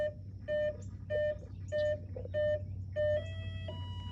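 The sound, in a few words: electronic beeps when plugging batteries into an electric RC plane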